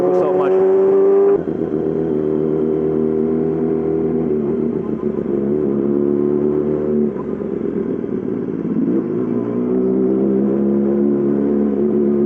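Yamaha R6 sport motorcycle fitted with a full M4 exhaust system being ridden, its engine drone steady and close throughout, with a sharp note change near the start and slight dips and rises as the throttle shifts.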